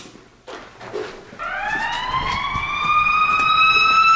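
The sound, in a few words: emergency vehicle sirens passing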